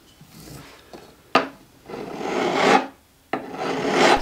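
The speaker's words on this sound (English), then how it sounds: "So now we're going to grind." Spruce wood on a guitar is ground in long, rasping strokes, three bursts separated by short pauses, close and fairly loud with no talking.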